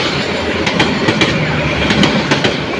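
Passing through Daulatkandi station, the Titas Commuter train from Dhaka toward Brahmanbaria gives a loud, close roar with rhythmic clickety-clack wheel beats over the rail joints.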